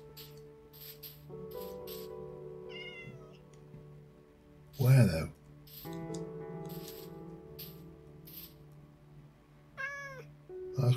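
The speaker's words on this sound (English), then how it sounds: "There is a kitty up here." Several short meows come from a cat somewhere overhead in a modded life-simulation video game, scattered through the stretch under background music, with a loud rattling thump in the middle and a person speaking briefly.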